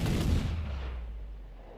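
A cannon blast in a naval battle in Assassin's Creed Black Flag, a single heavy boom up close followed by a long rumbling decay, heard alone.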